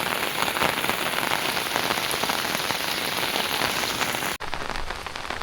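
Heavy rain pours steadily in a village, a dense, loud hiss of drops on surfaces that continues without a break and briefly dips near the end.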